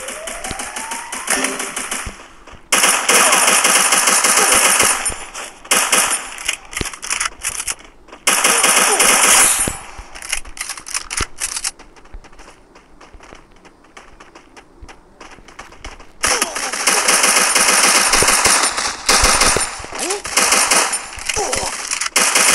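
Rapid bursts of automatic gunfire from a gun in the Free Fire Clash Squad mode, loud and dense in several long stretches with short gaps between them, alongside quieter passages of game ambience.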